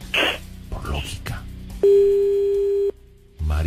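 A telephone tone sounds after a cell phone is dialed: one steady, clear, loud tone lasting about a second, preceded by talk and handling noises and followed by more speech.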